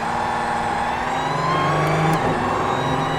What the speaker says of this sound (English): listen to this car purring